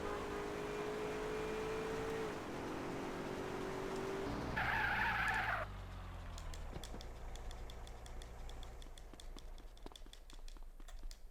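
A car spins and skids in the video game GTA San Andreas, a steady high tire squeal and engine drone giving way to a harsh scraping burst, then rougher engine rumble with scattered clicks and knocks.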